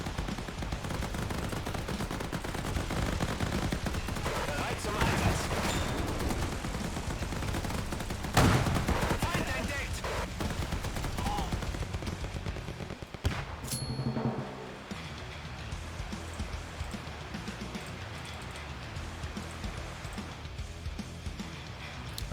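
A battle in an RTS video game, with continuous dense gunfire and machine-gun bursts mixed with heavy artillery blasts, loud and unbroken throughout.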